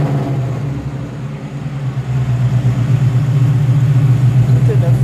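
Modern 5-litre car engine running at a steady idle, a constant low hum close by with slight rises, with people talking over it.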